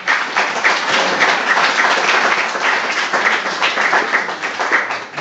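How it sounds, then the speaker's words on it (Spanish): A congregation at a Spanish-language evangelical church service claps together in loud, dense, steady applause that fills the whole stretch without pause. "Dale un aplauso al Señor"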